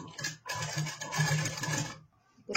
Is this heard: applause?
no